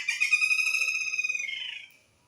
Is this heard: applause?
no